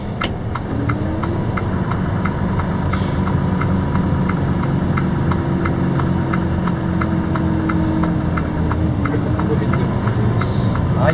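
Hazard lights ticking in a steady rhythm inside a new Quon truck stopped on a slight slope. The engine idles loudly beneath the clicks, and the ticking runs throughout at a moderate level.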